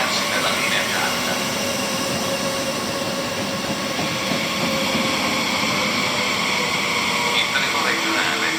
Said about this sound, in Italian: Il treno regionale di Trenitalia proveniente da Milano e Botta Castaldi e diretto a Genova Principe delle ore 15:45 è in arrivo al binario 4